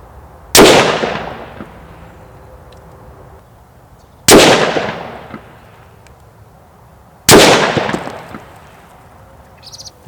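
A Daniel Defense Delta 5 Pro rifle in 6.5 Creedmoor with a 26-inch barrel fires three loud, sharp shots at even intervals of a few seconds, each followed by a long fading echo outdoors.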